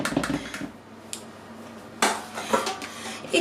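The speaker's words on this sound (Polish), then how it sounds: "Mieszamy tylko do wymieszania składników." A utensil knocks and scrapes in a bowl as almond babka batter is mixed, with a few loud clatters and softer stirring sounds between them.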